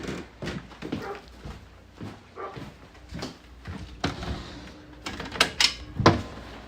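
A deaf dog barks in repeated sharp bursts at close range, the barks spaced irregularly and growing louder toward the end.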